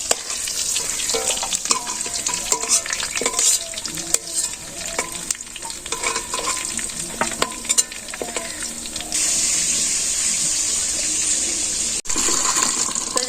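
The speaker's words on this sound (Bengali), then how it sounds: "মাংসটি ভাজলাম আলু ভাজছি মাংস ভাজলাম" Chicken and potatoes fry in a pot for biryani, hot oil sizzling steadily while a spoon stirs and scrapes with repeated clinks and knocks, up close, with a brief gap before the sizzle returns louder.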